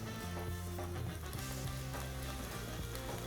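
Small chopped tofu pieces sear in hot oil in a pan, a steady, dense sizzle and crackle running without a break at moderate volume, with a faint, irregular spatter of pops and no talking.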